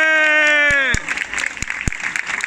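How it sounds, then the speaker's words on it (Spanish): At a neighbourhood residents' association festival show in El Prat de Llobregat, a sustained sung or played tone ends abruptly and gives way to scattered audience clapping amid crowd noise. "¡Más fuerte aplauso para Ana!"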